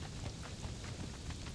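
Steady rain falls in the video game Conan Exiles, a dense, even wash of hiss and patter that continues without pause and stays fairly faint.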